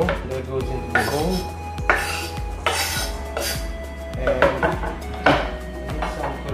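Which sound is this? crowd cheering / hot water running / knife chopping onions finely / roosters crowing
knife chopping onions finely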